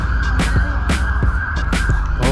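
An ambulance siren wails loudly and steadily in a repeating up-and-down pattern, heard close by from a bike ride near the Great Orme.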